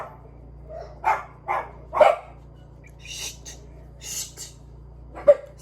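Dogs at a rescue farm barking outdoors, several short sharp barks and yips in an irregular burst, moderately close, with no talking.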